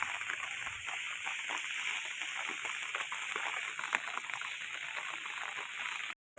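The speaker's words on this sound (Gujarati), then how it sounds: "વરસાદ ચાલુ જ છે અટાણના અને કાલનો વરસાદ ચાલુ છે" Heavy rain falls steadily in Rajula with a dense, even hiss and scattered drops close by. It runs without a break and stops abruptly near the end.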